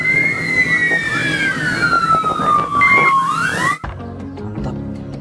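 A loud wailing fire engine siren sweeps down in pitch for several seconds, then cuts off abruptly, leaving busy street noise.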